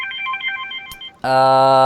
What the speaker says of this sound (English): Now someone's calling on my cell phone.